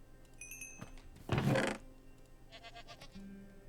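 A mountain goat in a video game gives a short, moderately loud bleat among soft game ambience, followed by faint thuds.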